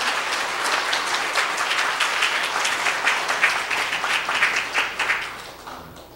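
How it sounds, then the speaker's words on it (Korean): A church congregation claps together in praise for God and the choir, a dense round with distinct slaps rising to a peak, then tapering off quickly to near silence at the end. "하나님께 우리 영광의 박수 한번 돌리고 우리 수고하신 찬양대로 한번"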